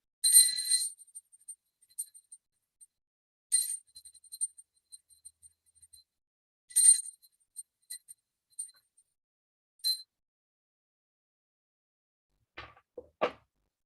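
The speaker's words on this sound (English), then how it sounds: "Next, I take a bell and I offer the element of sound." A hand bell rung during a Hindu puja offering gives four short, bright rings spaced a few seconds apart in a quiet room, followed by a faint clatter near the end.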